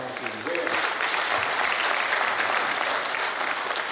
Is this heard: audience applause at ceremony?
yes